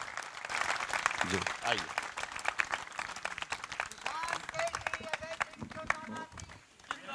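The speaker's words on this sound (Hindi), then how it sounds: "तालियों के साथ स्वागत कीजिए इस महापंचायत में।" Audience at an Ellenabad mahapanchayat political gathering clapping and applauding to welcome a by-election candidate, steady dense applause throughout with someone speaking over it.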